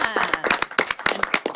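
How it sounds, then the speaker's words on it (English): A quick round of applause for brave participants at a parks and recreation event, a small group clapping with distinct individual claps close by, a little uneven, with faint voices mixed in. "Quick round of applause for them being so brave."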